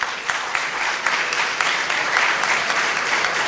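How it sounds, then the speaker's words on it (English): An audience at a startup event gives a round of applause, a thick, even patter of many hands clapping continuously and fairly loud throughout. "Please a round of applause for them."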